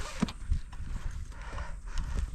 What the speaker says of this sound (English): leading the horse forward